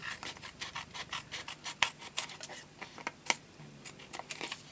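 Card stock from a card-making kit being trimmed, a close sequence of rasping, scraping strokes and sharp snips with irregular rhythm.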